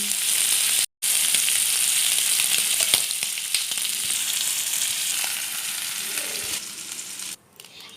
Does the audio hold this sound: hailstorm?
no